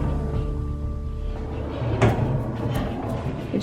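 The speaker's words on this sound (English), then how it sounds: "You have your pocket door to close" A bathroom pocket door slides shut in a Copper Creek hotel room, a short rolling rumble that ends in a soft thud, close and fairly quiet.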